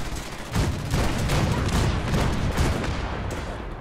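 Broadside cannons of the USS Constitution in Fallout 4 fire a loud, rolling barrage of overlapping booms, sustained and close with no pause across the whole stretch.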